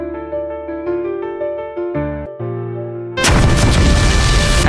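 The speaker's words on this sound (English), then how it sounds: "After a loud explosion," Sustained tonal music gives way to a sudden, loud broadband blast from a grenade explosion that roars on and fills the rest of the clip.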